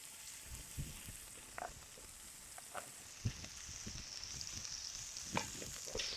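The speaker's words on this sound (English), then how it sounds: "You hear that nice sear, you just want to let it go." Scallops sear in a hot pan with a soft, continuous sizzle and small crackles, broken by a few louder pops and light clatter of the pan. No talking.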